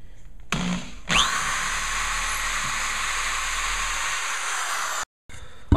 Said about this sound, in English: So you want to drill pilot holes.